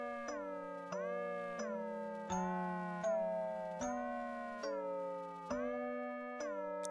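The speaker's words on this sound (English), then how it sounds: "You could hear the tempo drop in there." A synthesized tone sequence from a Reason 10 track plays a series of bright, bell-like notes whose spacing widens as automated tempo slows from about 200 beats per minute, with the pitch sagging along with the drop.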